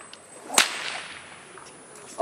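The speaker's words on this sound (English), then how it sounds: "A bullwhip is the first man-made invention to break the sound barrier." A kangaroo leather bullwhip fitted with a fall and cracker snaps once in a single sharp, loud crack, followed by quiet room tone and a faint second transient at the end.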